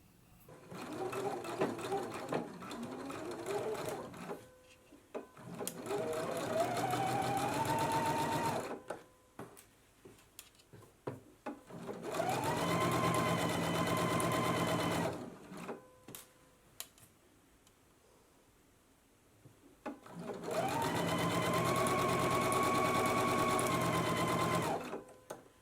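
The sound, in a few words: sewing machine stitching sleeve seams of a summer dress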